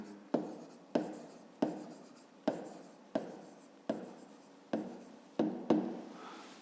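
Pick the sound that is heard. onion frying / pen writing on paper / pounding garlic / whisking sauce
pen writing on paper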